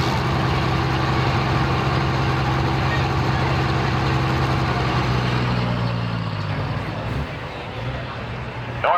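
Pulling truck engine at a truck and tractor pull, a loud, low, droning roar that holds steady and then eases and falls away toward the end.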